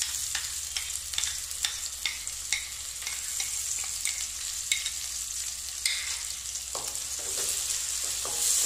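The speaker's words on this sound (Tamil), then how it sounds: "நமக்கு அந்த பச்சை ஸ்மெல் போடுற வரைக்கும் கொஞ்சம் நல்லா வதக்கணும் அந்த இஞ்சி பூண்டு பேஸ்ட்டு" Ginger garlic paste sautés in a pan for appala curry, giving a steady close sizzle and fry with occasional scrapes and clinks of a stirring spoon, no voices.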